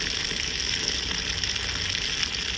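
A steady stream of water gushes nearby as mustard greens are rinsed for saag, an unbroken rushing wash with no talk.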